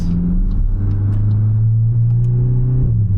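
Volkswagen Mk8 GTI pulling away from a stop and shifting from first into second, a steady close engine drone from inside the car that rises in pitch with no one speaking.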